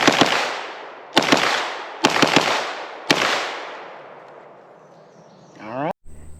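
A 9mm B+T SCW fired outdoors with 115 grain ammunition: four loud shots at uneven intervals, one doubled, each with a long echoing decay, followed by a brief mechanical rattle near the end.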